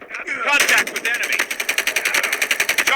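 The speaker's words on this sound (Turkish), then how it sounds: "Ya bak yine M16 ile sıkıyor bu 153 seviye." An M16 rifle fires in the Call of Duty Mobile video game, first a short burst and then a long rapid run of evenly spaced shots, loud and close, with a voice briefly heard.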